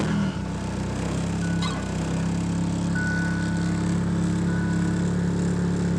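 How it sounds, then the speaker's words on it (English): A turbocharged car running a Megasquirt 2 tune idles right after a cold start, holding a steady, loud, rich-running engine drone with a low throbbing hum that persists throughout, close to the listener. "This is a cold start, just to show how good this car starts now."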